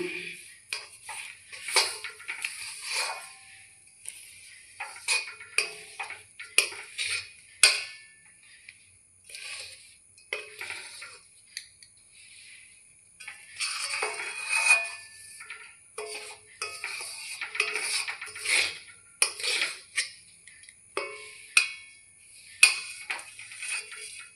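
Sesame seeds and jaggery are stirred together in a pan for sesame laddoos. A spatula gives irregular scraping clicks and metallic taps against the pan, coming in scattered bursts with quiet gaps between them.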